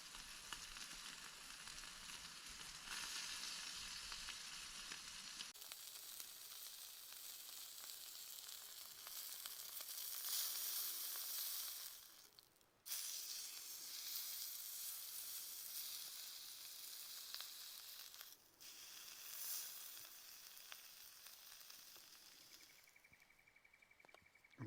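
Beef searing in oil over a campfire outdoors, a continuous bright hissing sizzle that holds steady for most of the time, dipping briefly twice, fairly faint and heard alone without voices.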